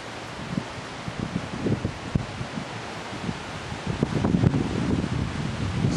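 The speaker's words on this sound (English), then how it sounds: "It's starting to get a bit windy now." Wind blows outdoors during metal detecting, heard as steady broadband rushing and buffeting against the microphone, with soft rustling gusts and a slight rise near the end, without talk.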